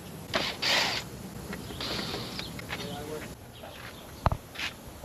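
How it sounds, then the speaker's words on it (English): Ratchet wrench unbolting a wooden countertop during a Toyota Tacoma truck camper build, giving a few short bursts of ratcheting clicks with brief pauses, followed by a sharp knock near the end. "I just need to unbolt the wood and cut them to the right size"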